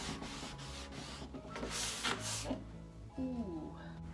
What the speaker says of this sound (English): sanding is the best way to clean a piece of furniture